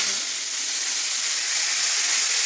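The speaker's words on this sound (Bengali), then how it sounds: "মাছগুলো হালকা ভেজে নেব।" Small chuno fish frying in hot oil in a wok, giving a steady, bright sizzle and hiss that stays loud and close throughout with no voices.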